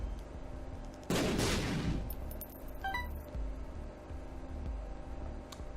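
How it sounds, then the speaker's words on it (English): A bomb explodes in The Binding of Isaac, a single loud, punchy burst that decays over about a second, followed by a few small chiming game effects over a low, quiet background hum. "I'm going to bomb this"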